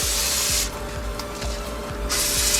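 Cleaner sprays onto car brake parts during a pad and rotor change: two loud hissing bursts from an aerosol can, each about half a second, separated by quieter rubbing and handling noise.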